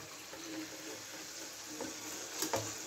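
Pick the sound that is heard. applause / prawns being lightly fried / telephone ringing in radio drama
prawns being lightly fried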